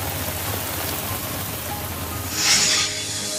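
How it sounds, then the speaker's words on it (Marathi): Steady, dense hiss of heavy rain pouring down in Thoothukudi, Tamil Nadu, swelling briefly louder toward the end. "तामिळनाडूमधल्या थुथुकुडीमध्ये पहाटेपासून मुसळधार पावसानं हजेरी लावली"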